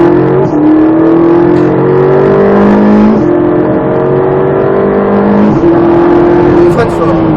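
A Ferrari 458 Italia at full throttle on the Croix-en-Ternois circuit, its engine pitch climbing through the gears with brief shift dips, loud and close, while a voice talks over it.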